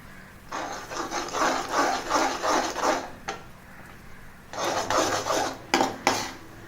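Semolina mixture for Srirangam jeera temple prasadam is stirred in a pan over a slow flame: repeated rasping, scraping strokes of the utensil against the pan in two long runs, close and fairly loud.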